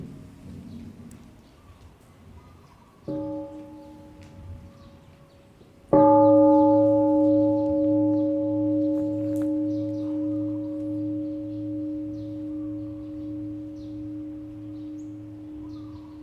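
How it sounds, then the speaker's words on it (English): A bell rings out during a mindfulness Dharma talk at a holiday retreat. A soft preliminary tap is followed by a full strike whose clear, steady tone lingers and slowly fades over many seconds in a quiet room. "listen to one sound of the bell"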